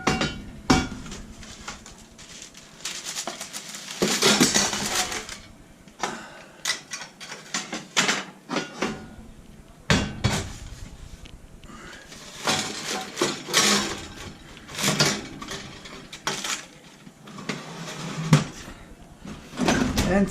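Heavy cast iron combo cooker clanks and scrapes as a sourdough loaf goes into a 450-degree home oven, with irregular metallic knocks, thuds and an oven door movement, close and moderately loud, no talking.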